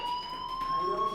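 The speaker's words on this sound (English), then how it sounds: "do you hear that fire alarm? That means you should be outside." A school fire alarm rings in the game Life is Strange, a steady, shrill electronic tone that holds unbroken at moderate loudness against a faint background.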